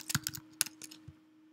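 Computer keyboard keys clack in a quick burst of close taps, then a few slower strokes fading into a quiet room hum.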